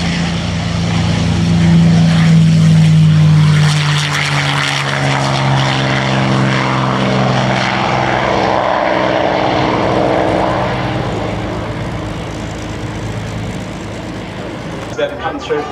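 A loud, droning P-51 Mustang V12 engine roars past in an air display flyby, its pitch sliding downward as it passes and fades, continuous throughout.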